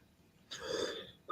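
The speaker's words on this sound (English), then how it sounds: "Sorry about that cough. I'm really trying to cut down on my smoking, folks, and it's starting to make me hack" A smoker's cough: a short, raspy, wheezing hack up close, lasting about half a second against a quiet background.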